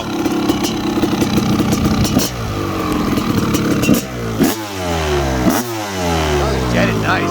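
A 1997 Honda CR500R big-bore two-stroke motorcycle with an Air Striker carb revs hard on a backyard motocross track, loud and close, with repeated rising and falling throttle blips over a rough idle, and voices talking over it.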